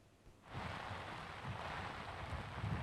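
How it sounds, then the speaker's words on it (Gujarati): Heavy rain driven by strong wind at Ahmedabad airport, rising after a short quiet start into a steady, dense rushing wash with low gusty rumbles, fairly faint and continuous. "ભારે પવન સાથે અત્યારે ધોધમાર વરસાદ છે તે વરસી રહ્યો છે"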